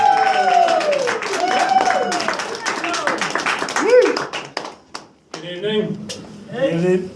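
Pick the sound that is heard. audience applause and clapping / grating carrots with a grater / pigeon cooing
audience applause and clapping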